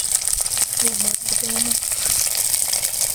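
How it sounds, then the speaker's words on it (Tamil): Onions sizzling in hot oil in a pan, a steady close frying hiss throughout with brief tonal clinks partway through, no talking. "இப்போ பெரிய வெங்காயத்தை நம்ம உள்ளே சேர்த்துக்கலாம்"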